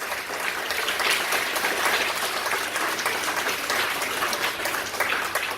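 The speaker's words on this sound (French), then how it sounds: "Jean-Claude Madeleine, maire de Sinamari, on applaudit bien fort, s'il vous plaît." Applause from the audience at a mayor's New Year greetings ceremony in Sinnamary, a continuous, even patter of many hands, moderately faint and somewhat distant, with no voices.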